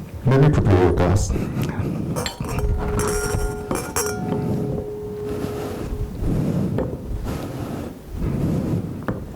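Wine glasses clink as a sommelier sets out glassware during a sommelier competition, bright clinks and a sustained ringing tone standing out over room noise and background voices.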